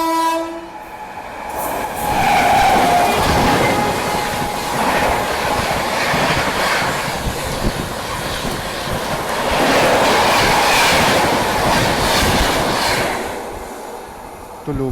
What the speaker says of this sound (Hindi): तो लो भाई, लखनऊ तेजस एक्सप्रेस भी ओवरटेक करके चली गई।